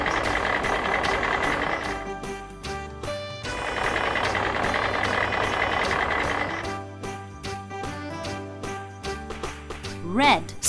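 A toy Mack truck plays a recorded engine rumble followed by a run of electronic reversing beeps, close and fairly quiet, with brief breaks and a rising chirp at the end.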